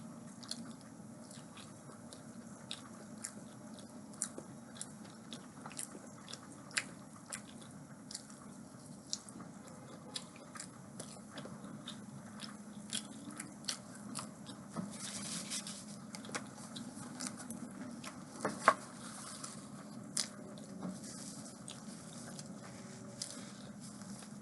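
Chick-fil-A waffle fries are chewed and crunched close to the mic, soft irregular bites and squishy mastication ticking faintly over quiet room tone, with one sharper crunch near the end.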